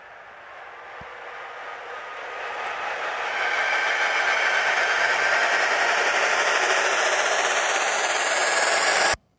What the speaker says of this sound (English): That was a noisy stutter.